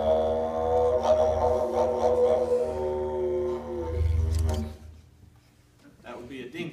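Didgeridoo imitating a dingo howl, a droning low pulse under rising, wavering vocalised tones that swell and fade, followed by a brief breathy end, played close and alone.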